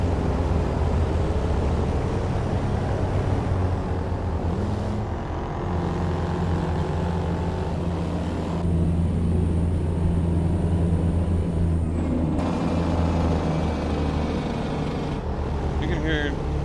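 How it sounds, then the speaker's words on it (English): Loud road traffic in the American Truck Simulator game, a constant heavy engine and tire drone with shifting tones, passing vehicles and occasional hisses, filling the whole stretch. "It's still insanely loud, the traffic"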